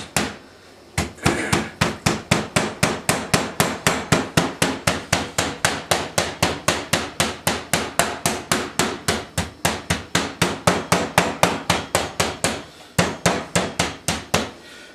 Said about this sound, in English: So we're going to pound it to about 1/4 inch to 1/8 of an inch flat.